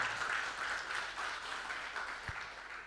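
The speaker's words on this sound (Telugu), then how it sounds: "చప్పట్లు కొట్టి దేవుని మహిమపరుస్తాం" A church congregation at a Father's Day service claps to glorify God, a soft, steady patter of many hands heard from a distance, with one low thump partway through and no talking over it.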